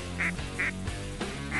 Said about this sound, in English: Ducks in the sky.